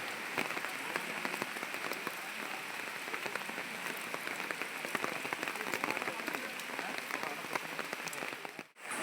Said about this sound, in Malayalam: മഴ നല്ല മഴ എന്ന് പറഞ്ഞു കഴിഞ്ഞാൽ നല്ല മഴ പിന്നെ ശക്തമായിട്ട് പെയ്തുകൊണ്ടിരിക്കുക